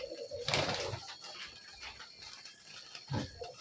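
High-flying pigeons of the Coimbatore line coo softly and faintly, with a couple of low throaty coos amid quiet ambient noise.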